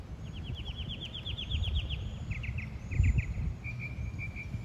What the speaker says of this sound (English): And I hope y'all are hearing the birds singing.